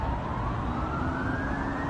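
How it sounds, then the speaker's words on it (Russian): An ambulance siren wails with a slowly rising tone over the dense low rumble of heavy traffic on a road jammed with cars leaving the city, steady and moderately loud, with no voices. "Едут скорые"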